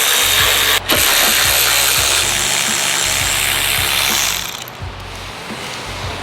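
A ratchet clicks fast and close while loosening fender bolts on a 2022 Range Rover Sport, its steady pawl clatter running for several seconds and then tapering off as the bolt frees, with no voices.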